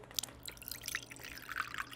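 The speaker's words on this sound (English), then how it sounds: "And then I'll pour the vanilla in." Vanilla syrup pours from a bottle into a drink, giving soft, faint splashy trickles and drips in irregular bursts against a quiet kitchen background, with no one talking.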